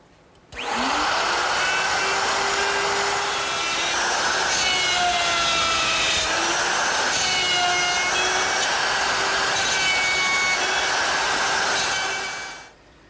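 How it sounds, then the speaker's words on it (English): A router cuts dovetail pins in wooden stock, a loud, steady high whine with pitch dips as the bit passes through the wood, starting abruptly and running for about twelve seconds before winding down, with no talking. "I'm ready to route the pins"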